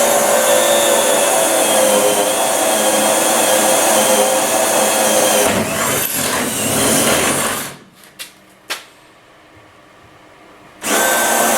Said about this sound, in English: Got the dehumidifier going.